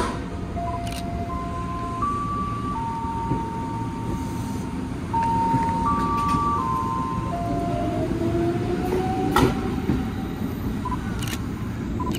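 An electric commuter train hums steadily as it departs toward Jakarta Kota station, with rising whining motor tones, a brief horn-like note and faint clanks over a constant rumble.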